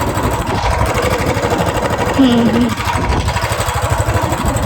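Motorcycle engine revving hard in a steady, close, loud roar with rhythmic pulsing, a brief voice rising over it midway.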